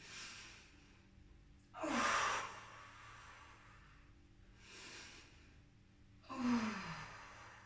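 Two deep, audible breaths during a gentle yoga session, each a slow inhale-exhale swell with a soft sighing release, separated by quieter pauses and fainter breathing, close and calm.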